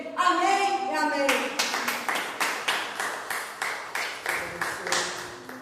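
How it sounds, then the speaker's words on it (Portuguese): A church congregation breaks into rhythmic clapping in unison after a preacher's voice, with sharp, evenly spaced collective claps repeating several times a second, moderately loud and slightly reverberant. "E aqueles que creem, celebrem, glorifiquem e aplaudem o nome do Senhor Jesus"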